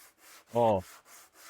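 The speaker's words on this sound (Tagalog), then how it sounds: "ang gagawin yung pagliha dito, nakaganyan sa tamang surface" A single short stroke of sandpaper rubbing across a surface, a brief scratchy swipe close by, with quiet room tone around it.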